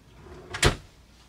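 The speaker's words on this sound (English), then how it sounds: "slide your drawer, and you hear that first snap" A drawer slides shut into a nightstand in an Airstream trailer and lands with one sharp snap, a brief close thud after a short slide, and nobody is talking.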